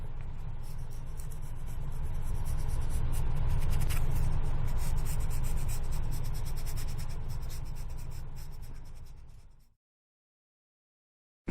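A flex sander rubs over a carved wooden rattle, a steady close scratchy abrasion lasting about nine seconds before fading into silence.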